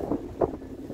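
Wind gusts buffet a tourist boat on a stormy ocean, a short rushing blast of breezy rumble with no speech.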